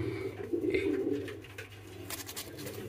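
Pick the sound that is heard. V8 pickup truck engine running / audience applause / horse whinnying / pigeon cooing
pigeon cooing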